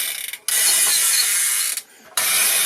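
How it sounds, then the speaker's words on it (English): Kenner Super Powers Collection Batmobile toy with a plastic clacking mechanism inside the wheel, giving rapid, loud ratcheting clatter in two long bursts separated by brief pauses. "the thing that clacks on the inside of the wheel"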